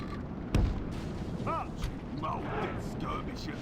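Troops open fire in a Total War battle with a Lord of the Rings mod set around Umbar, a sharp gunshot-like crack followed by a murky rumble of distant volleys and battle clatter under a talking voice.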